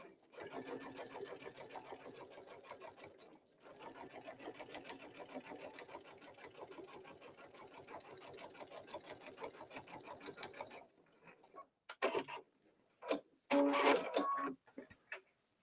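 A sewing machine quilting straight lines on fabric gives a rapid, even needle chatter in long runs with a brief pause. It stops near the end as a few louder handling clunks and a voice follow.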